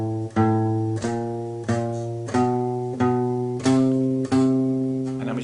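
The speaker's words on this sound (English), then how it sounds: "So I call this the 4-finger chromatic exercise for the left hand" Electric or acoustic guitar plays a four-finger chromatic exercise with alternate picking: evenly spaced single picked notes, about one every two-thirds of a second, each ringing and decaying, slowly stepping in pitch, solo with no talk.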